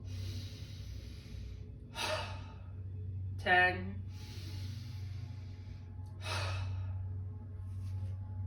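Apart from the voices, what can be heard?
ha breathing exercise, Wim Hof style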